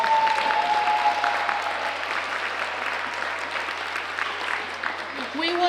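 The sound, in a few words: audience applause for the teachers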